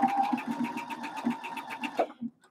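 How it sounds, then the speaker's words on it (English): A home sewing machine runs steadily while topstitching the fabric of a cinch bag, its needle making a rapid, regular mechanical patter up close for a couple of seconds before slowing and stopping. "I'm keeping an eye on this line as I sew"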